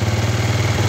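A 110cc kick-start motorcycle engine with a hard-starting fault runs slightly revved, a loud close steady throbbing putter over a brief moment.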